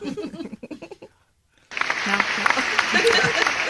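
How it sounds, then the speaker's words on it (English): A talk show host speaks briefly, then after a pause a burst of loud, dense applause from a studio audience takes over and continues steadily. "How about a round of applause for..."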